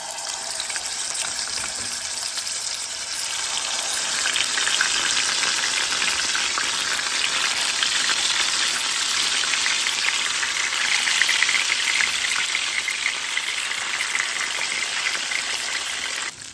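Marinated aair fish frying in regular cooking oil in a hot kadai, a loud, dense, continuous sizzle that holds steady for the whole stretch with no voices.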